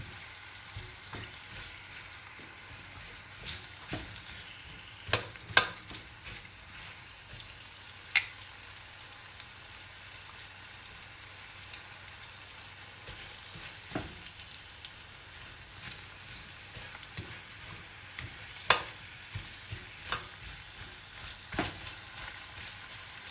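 Red onion frying in a pan sizzles steadily and softly, close by, with occasional sharp clicks and clinks from stirring; no one speaks.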